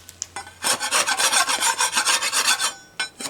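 Sandpaper rasps against a wooden beehive frame, scrubbing away wax moth eggs in a steady run of quick back-and-forth strokes, close and loud, with a few short scrapes before and after.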